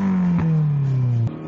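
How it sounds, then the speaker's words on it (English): An AE86 Toyota Corolla GT-S exhaust revs up loudly nearby, a throaty engine note sliding smoothly in pitch before cutting off abruptly near the end. "Definitely check out that exhaust note"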